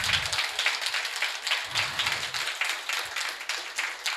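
An audience at an event in Naimisharanyam, Uttar Pradesh, applauds Master Kondababu, and the steady crowd clapping rises and falls in waves over several seconds, with no one speaking.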